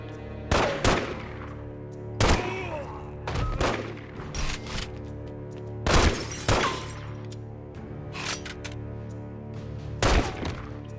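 Several sharp video game gunshots fired singly and in pairs at irregular intervals over a steady electronic hum, with a few clanks between them.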